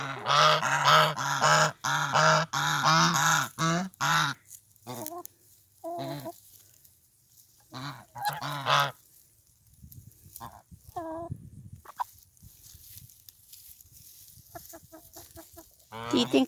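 Homestead chickens and other fowl give a burst of honking and clucking calls, loud and close at first, then thinning into scattered, fainter squawks and clucks with pauses between them.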